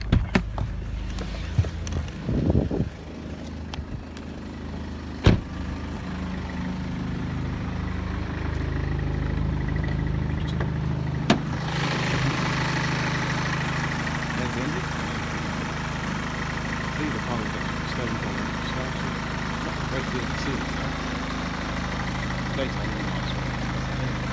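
A BMW 520d Touring 5 Series diesel engine (2010, 122k miles, 8-speed auto) idles steadily with a low, even rumble that carries on unchanged, with a few clunks and knocks early on.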